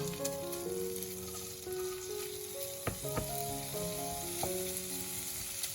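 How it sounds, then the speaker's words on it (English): Bacon and cold cuts frying in a pan for quiche Lorraine, giving a continuous soft sizzle and crackle with a few sharp utensil clicks, all without speech. "I'm gonna start saute them a little bit because I want to burn a little bit the fat of the bacon"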